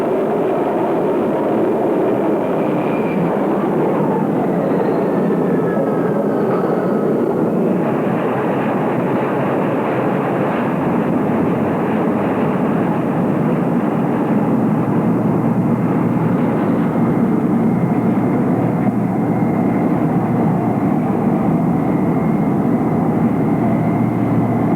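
Military jets from aircraft carriers in the Gulf War roar steadily for the whole span, a loud, continuous engine drone with a rising whine near the start and no voices.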